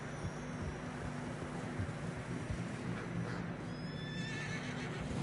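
Horses in snowy terrain in the Red Dead Redemption 2 video game whinny and snort over a continuous rumbling bed of wind and movement, with faint hoof sounds mixed in; no speech.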